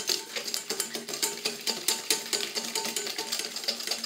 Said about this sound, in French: Il suffit juste de mélanger le sucre glace